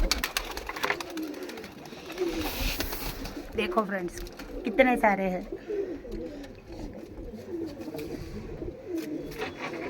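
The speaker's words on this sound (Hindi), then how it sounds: "ये हमने इतने सारे कबूतर रखे हुए हैं।" Pigeons coo repeatedly at close range on a home terrace, a flock gathered for food and water, with someone talking over the birds throughout.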